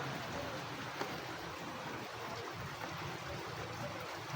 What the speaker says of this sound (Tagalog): Ay, ba't ito naulan pa?